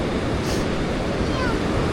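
Sea waves washing against a beach embankment in Vietnam, a constant loud roar of surf mixed with wind buffeting the microphone, no clear voices.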